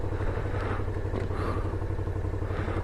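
A cruiser motorcycle off-roading on rough ground, its mid-pitched engine droning steadily and loudly throughout, with rattling and scraping mixed into a continuous wash of noise.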